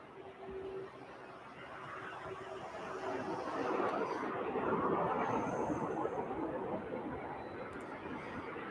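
DHL cargo aircraft taxiing to park at East Midlands Airport, a broad steady engine roar that swells and eases under faint background chatter, heard at a moderate distance.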